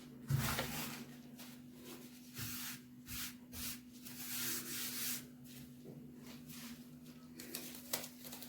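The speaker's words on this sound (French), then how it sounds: "Alors moi, je vais y aller avec la main. Parce que pour mélanger, c'est plus pratique à la main." A hand mixes sablé cookie dough in a bowl, producing close, soft squishing and rubbing with irregular pulses and a steady low hum underneath, no talking.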